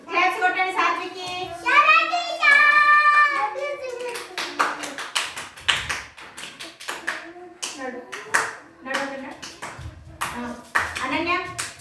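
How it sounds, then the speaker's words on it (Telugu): Children clap in a classroom during a counting lesson, scattered taps breaking out amid a teacher's and kids' voices, with talking continuing over and between the claps. "క్లాప్స్ కొట్టండి సాత్వికి."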